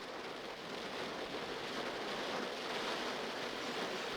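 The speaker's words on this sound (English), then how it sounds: "The rain came as predicted, so I took cover in my own van for a bit." Steady rain drums on the roof of a self-built campervan, a dense, even hiss without a break, heard close from inside the van with no talking.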